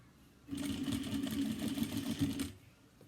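Sewing machine stitching a recessed zipper onto a cross-body bag, a close, steady mechanical whirr running for about two seconds after a quiet start and stopping cleanly.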